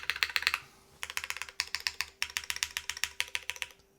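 Rapid bursts of mechanical keystrokes on a Cloudline v2 keyboard with an aluminum plate, clacking in quick runs with short pauses between, close and clear, with no talking.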